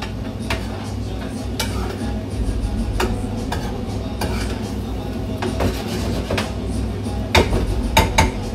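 A spoon stirs tomato-based food in a pot in a home kitchen, making repeated clinks and scrapes against the metal at an uneven rhythm, with faint sizzling and no speech.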